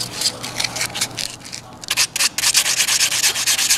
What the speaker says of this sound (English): I scuffed this transition where the epoxy meets the factory panel.